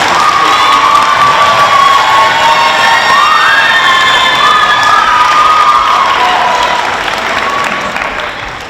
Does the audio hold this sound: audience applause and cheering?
yes